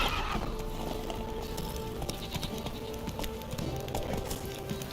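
Geralt's horse Roach in The Witcher 3 gallops with steady clip-clopping hooves and lets out a loud whinny near the start, the hoofbeats running on continuously up close under game ambience.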